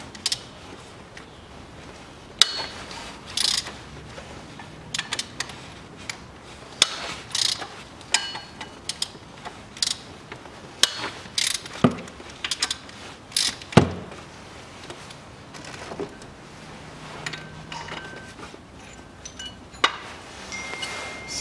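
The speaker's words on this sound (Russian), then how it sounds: "и откручиваем три болта." An E12 socket and ratchet back out three water pump pulley bolts on a Land Rover Discovery 3, with the pulley held by a locking pin. Sparse, close metallic clicks and ratchet ticks come in irregular bursts, with no talking.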